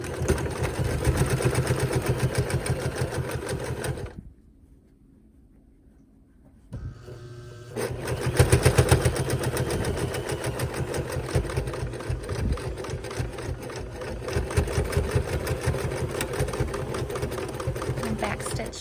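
A sewing machine runs steadily while back stitching a quilt, a loud continuous mechanical whirr that pauses briefly midway and then resumes, with voices talking over it.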